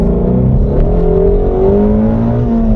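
A Ford Mustang revs hard and accelerates on an LA street. The engine note rises in pitch, loud and close, and holds a steady, strained roar throughout.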